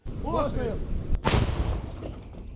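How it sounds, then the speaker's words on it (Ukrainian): Two sharp, heavy artillery blasts on a Ukrainian front line, about a second apart, each a loud broadband boom with a rumbling tail, over outdoor background noise. "Ще кілька пострілів"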